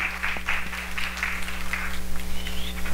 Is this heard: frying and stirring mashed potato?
no